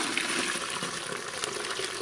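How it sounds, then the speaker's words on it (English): Coconut and cardamom chai spiced milk tea pouring steadily through a sieve into a one-gallon jug, a continuous splashing liquid rush with no breaks, close and fairly loud, without talk. "we're just going to pour this into the sieve"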